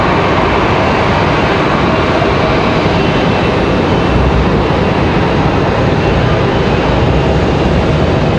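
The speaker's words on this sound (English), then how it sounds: "As we check out Copa 466 again, coming in from Panama City" A Copa Airlines Boeing 737-800 arrives at Raleigh-Durham airport from Panama City, its jet engines roaring loud, close and continuous for the whole stretch.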